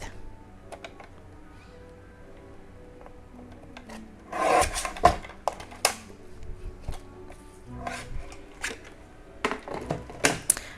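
Scissors trimming a paper piece for a Christmas card at a crafting table: soft scattered snips and rustling paper, with a louder burst of cutting midway, close and fairly quiet.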